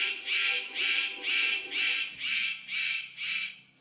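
A male superb bird of paradise gives a run of seven evenly spaced, harsh rasping calls in a steady rhythm, loud and close with no other sound.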